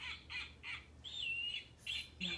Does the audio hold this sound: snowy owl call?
yes